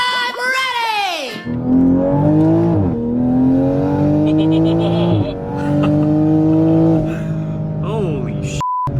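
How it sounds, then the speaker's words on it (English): A 2020 Toyota Supra fitted with a big turbo accelerating hard on a street drive, engine pitch climbing through several gear pulls with brief dips at shifts, loud from inside the cabin. "the turbo sounds insane in this thing"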